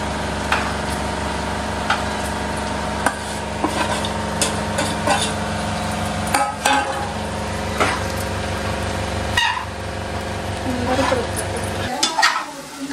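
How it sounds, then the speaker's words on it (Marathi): Soaked sabudana and crushed peanuts stirred in a pan for khichdi, a steady scraping and stirring over a low sizzle with repeated utensil knocks, loud and close throughout. "आता त्याच्यामध्ये हे भिजत घातलेले साबुदाणे त्याच्यामध्ये शेंगदाण्याचा कूट मिक्स केला ते आता मिक्स करून"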